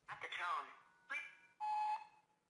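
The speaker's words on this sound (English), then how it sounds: "there's a keyboard shortcut that lets you jump directly to the beep like this." A phone voicemail greeting plays as a brief recorded voice, followed by a single clear, steady electronic beep lasting under half a second.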